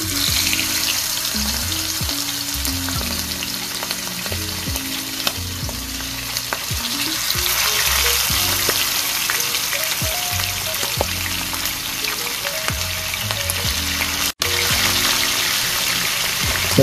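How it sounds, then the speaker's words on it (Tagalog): Marinated chicken pieces fry in a heated pan, a loud, continuous close-up sizzle and crackle of hot oil with occasional sharper pops throughout. "Start na nating lutuin or fry itong ating chicken na nanantimpla."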